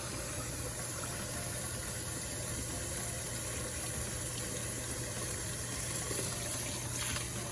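Tap water runs steadily while rice is rinsed until it runs clear, a faint continuous hiss and splash under a low mechanical hum.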